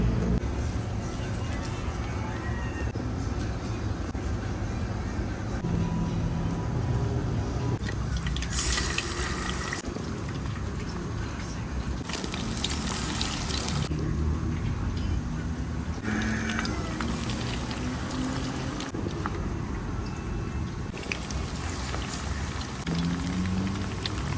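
Chicken fries in reused oil in a pan, continuous sizzling and crackling, steady and close, with brief louder hissing bursts and some background voices.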